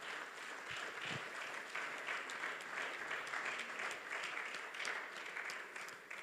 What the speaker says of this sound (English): please give this team, wonderful team, a round of applause